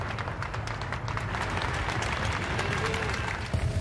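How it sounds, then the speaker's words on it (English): A crowd in Detroit in 1990 applauds Nelson Mandela's arrival, sounding as a continuous wash of clapping and cheering with a voice over it. The applause carries through to a brief louder burst at the end. "as he comes in to a round of applause"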